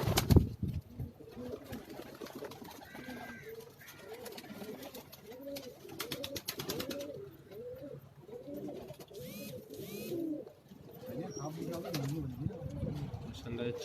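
Pigeons coo on a rooftop in Karachi, repeated soft rolling coos in a steady rhythm close by, with occasional wing flutters and faint background clatter.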